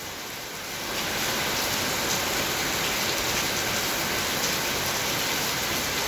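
Heavy rain pours steadily outside a home, a dense, constant hiss that swells to full strength after the first second and holds loud and unbroken throughout, with no voices.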